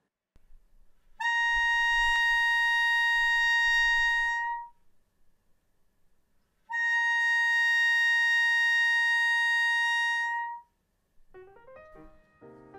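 A bass clarinet sustains a pure, high register note twice, each long tone lasting about three seconds with a short gap between, close and clean, followed by a brief stretch of quieter playing.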